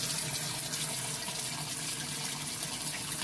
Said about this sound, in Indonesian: ini kita matikan dulu keran air ya